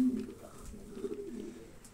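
Soft, low pigeon coos murmur through a quiet room, faint and repeated, with light background noise.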